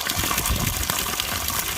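Rusty water gushes hard and steadily from a farm water hydrant, a loud continuous rushing splash with no break and no voices.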